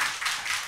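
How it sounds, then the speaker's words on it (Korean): A short burst of clapping from a church congregation, soft and somewhat distant, a few quick pulses lasting under a second. "박수 한번"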